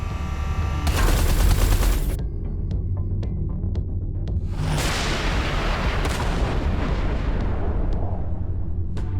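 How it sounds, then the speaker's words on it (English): Heavy artillery fire in the space combat game Everspace 2, a loud, sustained barrage of booming blasts and rumbling explosions over a constant low throb, with sharp impacts rolling into a dense roar. "Watch out! The artillery!"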